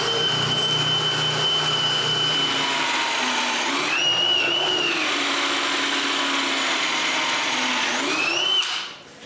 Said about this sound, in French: je perce un gros trou le plus profond que je peux pour y insérer un goujon